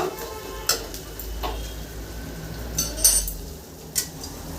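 A spatula mashes and cuts tomatoes in oil in a cooking pan for a rohu fish and raw mango curry. Several sharp metallic scrapes and taps cut through a low, continuous sizzle, with no voice over them.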